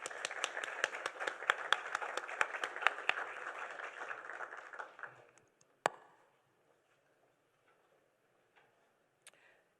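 Scattered clapping from a small audience at a 2021 graduation ceremony, steady for about five seconds then stopping abruptly, followed by near silence with a sharp click and a few faint taps.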